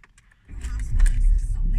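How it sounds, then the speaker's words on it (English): A 2013 Volkswagen Golf GTI 2.0 with a 218 bhp engine is started with a key: a brief quiet, then the engine catches loudly and close by and settles into a steady, rumbling idle. "So what I'll do now, I'll turn the car on"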